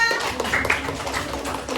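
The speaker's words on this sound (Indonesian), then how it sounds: "tepuk tangan untuk kelompok 3" A classroom group of children claps for a presenting team in a short burst of mixed applause, with kids' voices chattering over it.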